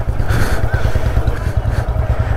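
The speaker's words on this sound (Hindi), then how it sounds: "और अपनी बाइक भी स्किट कर रही है" A motorcycle struggling on a muddy road where vehicles are stuck, its engine a loud, close, throbbing low rumble that pulses unevenly as the wheels slip.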